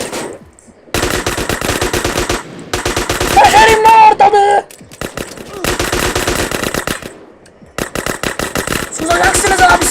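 In the video game GTA San Andreas, loud automatic gunfire rattles in long rapid bursts separated by short gaps, with a close, punchy in-game sound.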